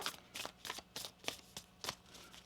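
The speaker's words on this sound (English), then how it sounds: "One more shuffle here." A deck of Moonology oracle cards is shuffled up close, with about seven quick riffling bursts in a steady rhythm, quiet and alone without talk.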